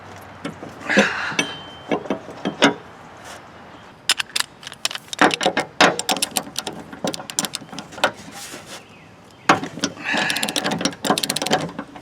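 A ratchet wrench loosens a 15 mm bolt on a John Deere L, LA, D or E series mower deck, giving close, loud bursts of rapid clicking separated by short pauses.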